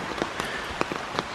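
Rain patters around a hiker on a nature preserve trail above the Ohio River, with scattered distinct drops tapping close by over a soft, steady background wash.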